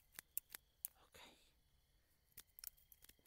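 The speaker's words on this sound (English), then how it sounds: "I wish these scissors were sharper." Scissors snip close by while a rescued bird is being freed, a few sharp clicks spaced apart, with a rustling cut in the middle and soft handling noises between.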